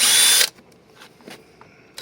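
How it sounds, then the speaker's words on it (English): A power drill bores holes in a Kydex sheath for grommets, one loud close whirring burst that cuts off, quiet handling noise, then the drill starting again at the end. "I'm going to go ahead and drill these"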